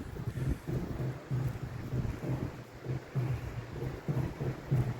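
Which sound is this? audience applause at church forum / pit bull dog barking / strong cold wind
strong cold wind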